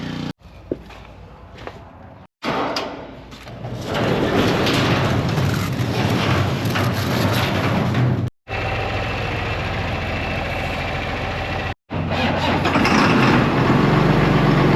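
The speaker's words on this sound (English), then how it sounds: "Tractor sat all winter, fired right up." A tractor engine cranks and catches after sitting all winter, then settles into a loud, steady idle that rumbles on at close range, broken by a couple of brief cuts.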